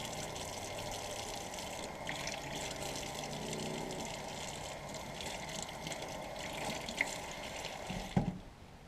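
Cold water runs steadily over a rusty Air Force pilot survival knife during an outdoor rinse, a continuous hiss-like splash that ends with a brief clunk.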